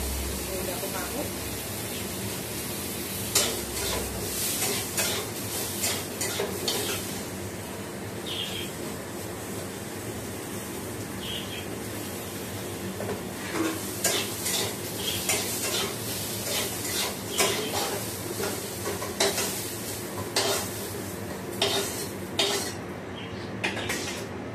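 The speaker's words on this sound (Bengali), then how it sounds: "আগে পাঁপড়টা ভেজে নিই।" Papad frying in a pan in a home kitchen, with a steady sizzle running under intermittent clinks and scrapes of utensils against cookware, fairly close and continuous throughout.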